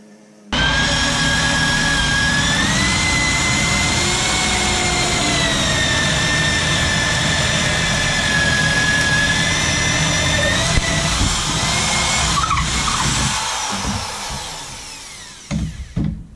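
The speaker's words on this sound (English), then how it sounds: "The old right angle drill." A right angle drill whines loudly and steadily for about fourteen seconds during copper plumbing repipe work, its motor pitch shifting slightly, before winding down with a few clunks at the end.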